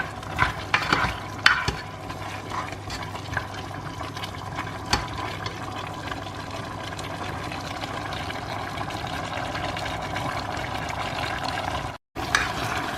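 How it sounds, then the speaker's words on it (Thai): Fish stir-fried in a pan with salt and fish sauce sizzles steadily for several seconds while a utensil scrapes and stirs through it. No one speaks, and the sound stays close and fairly loud. "ใส่ปลาลงไป คั่วให้มันเข้ากันแป๊บหนึ่ง"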